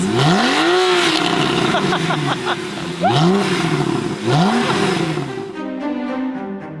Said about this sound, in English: Listen to how good this exhaust sounds